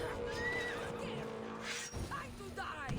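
A horse whinnies in Assassin's Creed Odyssey, a rising and falling neigh over soft game ambience and hoof clatter, with a voice talking briefly underneath.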